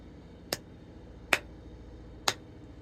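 Three crisp, sharp hand claps ring out alone at an even, unhurried pace, each a single clean snap against a quiet background.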